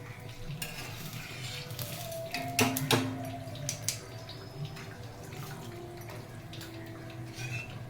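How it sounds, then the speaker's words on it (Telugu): Cashews fry in a pan for a Diwali chiwda mixture, a quiet crackling sizzle broken by bursts of clinks and scrapes from stirring, close and fairly faint, with nobody speaking. "ఇప్పుడు ఇందులోని జీడిపప్పులు వేయించుకున్నాం"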